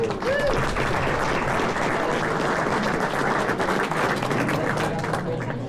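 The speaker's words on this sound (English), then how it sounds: "let's give a round of applause for those people" An audience at a chamber of commerce awards banquet in Aurora, Nebraska applauds steadily for several seconds, a dense wash of clapping with faint voices mixed in.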